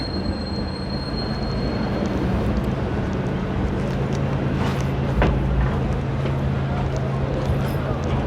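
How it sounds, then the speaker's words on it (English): San Francisco streetcar passing by on a SoMa street, a loud steady rumble of rail wheels and traffic with a faint squeal, heard close throughout. "As we see a streetcar go by."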